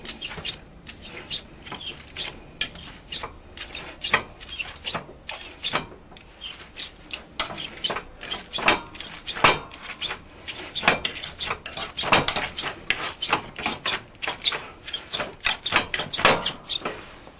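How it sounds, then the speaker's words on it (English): A hand masher pounds parsnip and apple mash with parsley and chives in a pot, giving a fast, irregular run of close metallic clacks and soft squelching thuds that continues steadily, with no talk. "Once I get done mashing this, we're going to put our mash down"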